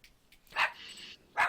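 A small dog barks twice in short, sharp, high-pitched bursts, close by and loud, with no other sound around it.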